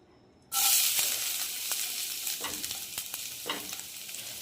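Chopped ginger and garlic hitting hot oil for chilli chicken, erupting into a loud, continuous sizzle after a brief quiet start, with occasional stirring scrapes beneath the hiss.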